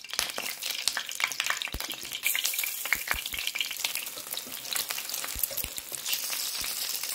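Halved eggs coated in egg white frying in oil: a busy, close, crackling sizzle with frequent sharp pops and spits spread throughout, no speech.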